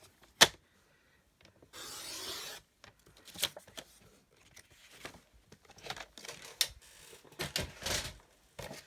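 Designer series paper being cut for a pocket fold card, a close sequence of quiet scraping and slicing strokes, with one sharp tap at the start and short bursts of rustling in between.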